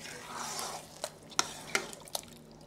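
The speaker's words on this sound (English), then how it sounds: "Give that all a stir." A spoon stirs a pot of Persian butternut squash and chickpea tagine with tomatoes and apricots, a soft wet swish followed by a few faint scraping taps against the pot, quiet and close.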